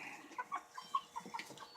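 Meat chickens cluck indoors in a quiet, close series of short, soft clucks at an uneven pace, with no talking.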